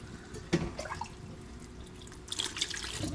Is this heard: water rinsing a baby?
yes